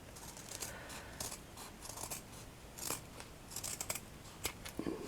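Scissors snip and trim around fabric for a handmade padded button, a series of close, quiet cutting snips in irregular rhythm with faint rustling between them.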